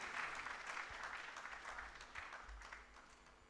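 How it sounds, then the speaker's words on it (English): Faint, distant audience applause at the closing ceremony of Uganda Water and Environment Week, a steady patter of many hands clapping that continues throughout and tapers slightly at the end. "Another big round of applause for Abdul Latif Khalid."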